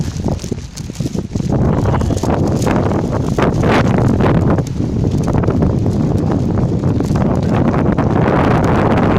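Strong storm wind buffets the microphone in Dubai, a loud, continuous roaring rush with gusting swells that runs through the whole stretch, with no other sounds standing out.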